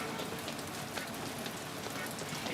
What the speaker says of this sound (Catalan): A sobre plou.